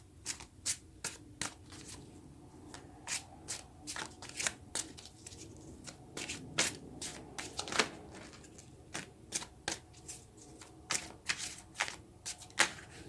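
Tarot cards are shuffled by hand in a steady run of crisp riffles and slaps that repeat for several seconds. The sound is close and fairly quiet, with no talking.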